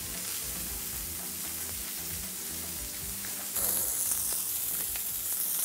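Spiced bay scallops sear in plenty of hot oil in a pan, giving a steady, close, dense sizzle that grows louder and brighter partway through, with no talking.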